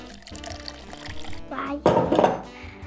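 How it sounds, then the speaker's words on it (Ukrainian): Water splashes and pours into a glass in a home kitchen, a rising gush near the end, with a voice and clinks of dishes in the background. "Звісно, що я налила багато води"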